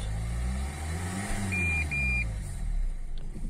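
Renault Clio 3 dCi diesel engine revving up toward 3000 rpm, its steady low hum rising and falling in pitch, with a short electronic warning beep sounding twice partway through.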